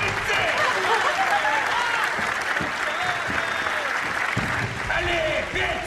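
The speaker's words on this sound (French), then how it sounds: "Oui, applaudissez!" An audience applauding a cellist being introduced, sustained crowd clapping that continues strongly throughout while voices call out over it.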